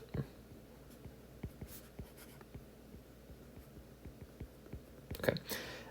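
A pen writes on paper while an economics practice problem is worked out, producing soft, close, scratchy strokes in an irregular rhythm, ending with a brief louder scribble; no one talks.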